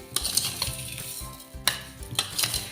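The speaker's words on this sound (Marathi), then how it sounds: "ही साखर आहे ना सर्व आपल्याला व्यवस्थित आवळ्याला मिक्स करून घ्यायचे" Sugar is stirred into amla (Indian gooseberries) in a container for amla candy, giving close, repeated scraping and clinking of a spoon against the vessel in an uneven rhythm, with no speech.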